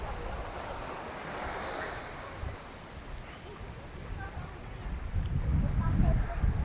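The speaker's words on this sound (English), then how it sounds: "A bit of a breeze blowing" Breeze blowing across Ao Sane Beach (Jungle Beach) in Phuket on a hot midday, with steady wind rush on the microphone and gentle surf washing in the background, swelling louder toward the end.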